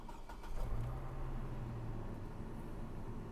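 A pickup truck engine idles steadily nearby with a low, even rumble, briefly rising at the start before settling into a continuous hum.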